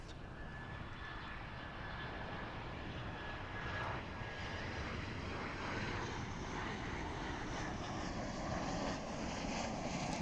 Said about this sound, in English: Let's see if we can follow this A330 into the sky